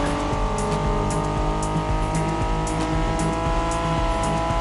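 A BMW Z4 M40i roadster's engine drones steadily and loudly, a continuous, even tone with no clear rise or fall.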